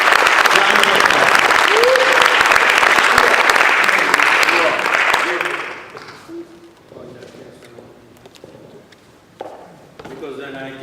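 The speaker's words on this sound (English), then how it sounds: "Let's give a Texas round of applause." Loud applause from a lecture audience welcoming a speaker, a thick continuous burst of many hands clapping for about six seconds before fading out into quiet room noise with a few scattered sounds.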